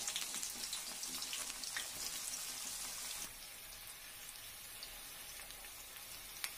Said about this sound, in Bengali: এই তেলের মধ্যে কুচনো পেঁয়াজ ভেজে নেব।